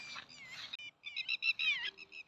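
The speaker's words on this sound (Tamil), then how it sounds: "இந்த குருவி பேர் என்னது தெரியலையே." A small bird near its nest gives bright, high chirps and twittering trills in two close bursts separated by a brief pause, clear and nearby with no talking.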